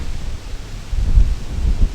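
Strong, gusting wind in freezing cold weather during a duck hunt, rumbling and buffeting the microphone in low, uneven surges that swell louder toward the end, with no voices.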